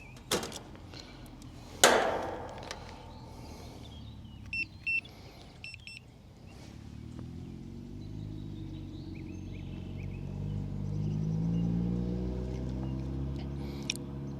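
A mobile home HVAC compressor kicks on after a few sharp clicks and faint electronic beeps, then settles into a steady, loud, close droning hum with a slowly shifting pitch that runs to the end, with no talking.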